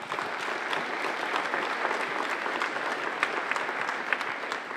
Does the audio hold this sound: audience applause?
yes